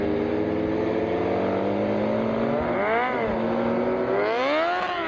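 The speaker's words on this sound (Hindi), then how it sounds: "बहुत ही कोई ज़बरदस्त साइलेंसर लगाया हुआ है" A heavy motorcycle with a loud aftermarket exhaust drones steadily up close, then revs twice in rising and falling surges, the engine note swelling and dropping each time.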